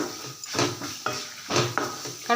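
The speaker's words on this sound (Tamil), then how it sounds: "எல்லாத்தையும் இந்த எண்ணெயில் நல்லா வதக்கிடுங்க" Ridge gourd peel with tamarind and asafoetida is sautéed in oil, heard as a series of close spatula scrapes and clinks against the pan over a faint sizzle.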